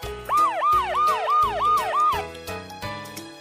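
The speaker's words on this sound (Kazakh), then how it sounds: "Жедел жәрдем." An ambulance siren wails in about six quick rising-and-falling cycles, loud and close, over light background music.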